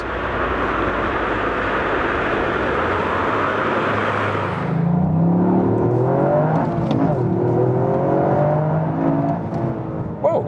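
A 2021 Toyota GR Yaris with all-wheel drive, in track mode on a wet track, accelerates hard: a steady broadband rush of engine and road spray gives way to rising engine tones, loud and close throughout.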